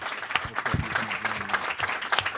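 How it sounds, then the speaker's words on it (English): A conference audience breaks into applause, a short burst of scattered hand claps heard from a modest distance at fairly low level. "everybody in the room owes a big round of applause to Barbara Barnett for putting this together"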